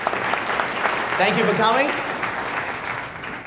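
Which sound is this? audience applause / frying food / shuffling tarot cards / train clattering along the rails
audience applause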